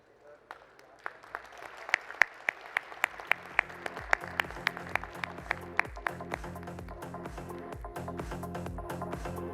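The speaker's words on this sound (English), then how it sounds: "Please give a warm round of applause and warmly welcome our guests." Audience at the CREDAI NATCON conference welcoming guests, with a series of sharp, evenly spaced loud hits over a growing bed of scattered clapping that thickens toward a steady round of applause.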